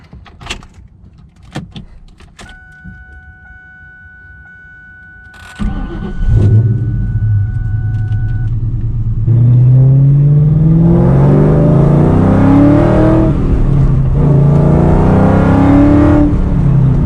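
A Shelby Cobra engine, just back from the shop, cranks and fires for its first startup, then settles into a loud, close, steady rumbling idle with rising revs, after a few faint clicks and door sounds.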